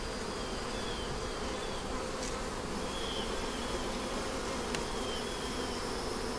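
Honey bees drone steadily inside an opened hive during an inspection for queen cells, a dense, continuous close-up hum with no voices.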